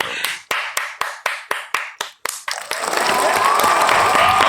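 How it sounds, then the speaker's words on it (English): A single person claps about ten times in an even rhythm, close and sharp, then a fuller burst of applause from several people takes over and continues. "Please clap. Please clap."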